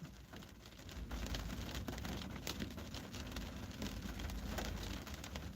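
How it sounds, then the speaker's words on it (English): Rain falling outdoors as a steady, dense hiss with scattered patters, fairly faint and continuous throughout, with no voices. "It's just raining out here."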